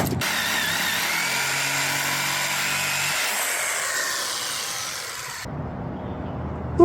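A power saw cuts along the metal panel edge of a mini electric street bike, an RSF650, with a loud, steady grinding whine for about five seconds that stops abruptly, followed by a quieter lower hum.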